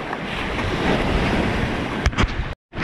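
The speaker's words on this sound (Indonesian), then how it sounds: "Kaget aku tak kira ombak ya." Steady ocean surf rolls at a marina spot in Semarang, a continuous loud wash of waves with wind noise, cutting off abruptly near the end.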